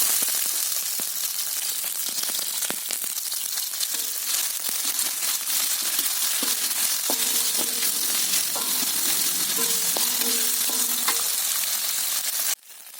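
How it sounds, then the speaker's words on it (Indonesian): Garlic and shallots sauté in hot oil in a pan, a steady close sizzle with occasional stirring clicks and scrapes, no talking. "bawang putih, bawang merahnya aku tumis ya"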